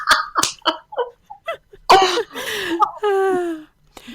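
A sneeze bursts out loud and close partway through a podcast conversation, with people talking and laughing around it before and after.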